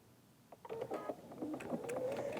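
Sewing machine stitching a quilt seam, a soft, fairly quiet mechanical whir with small clicking pulses, close by and steady with no talking.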